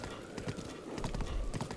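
Horse hooves galloping in the video game The Legend of Zelda: Breath of the Wild, a rapid, close rhythmic clip-clop with a brief whinny, under faint voices.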